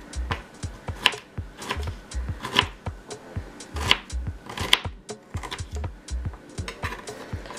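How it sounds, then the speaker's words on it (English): A knife chops fresh ginger finely on a cutting board for a fruit smoothie, a run of crisp, close, irregular taps with short pauses between bursts. "Chop it up really fine so this way it can break down even better"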